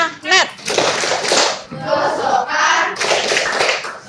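Hands clap in a rhythmic classroom clapping game while children's voices chant along, lively and close.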